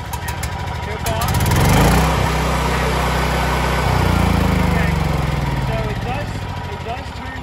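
Ridgid 6800 watt portable generator engine running steadily at close range, a loud continuous drone with a low hum, with a person talking over it.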